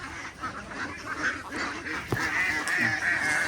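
Pet ducks kept on a Filipino farm, a cluster of nasal honking quacks and calls from a flock, moderately distant and steady.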